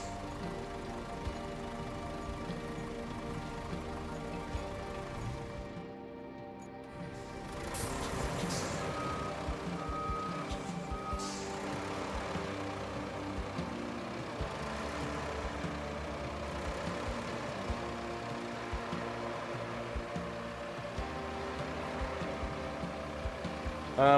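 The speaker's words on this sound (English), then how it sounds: "it turns up the engine sounds too" Heavy trucks in the Roadcraft video game idle and rumble in rain while a loud reversing alarm beeps steadily, with a hiss like air brakes around the middle and no talk.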